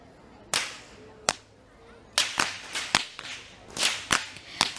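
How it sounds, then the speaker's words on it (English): Whip crackers lead a Kandy Esala Perahera procession in Sri Lanka, snapping whips in about eight loud, sharp cracks. The cracks come singly at first, then in a quicker, irregular run. "Walking up front with the sound of thundering whips piercing through the skies are the whip crackers"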